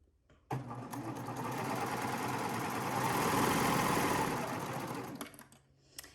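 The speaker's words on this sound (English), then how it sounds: "I'm just gonna serge this on" A serger overlocks fabric at a 1/4 inch seam allowance, running in one smooth, steady whir for about five seconds before stopping abruptly.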